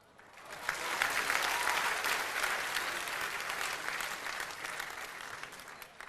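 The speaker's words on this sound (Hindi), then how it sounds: "डॉक्टर बशीर बद्र के सम्मान में तालियां बजनी चाहिए" An audience at a shayari poetry event breaks into loud, sustained applause that swells within a second and then slowly tapers off, with no voices over it.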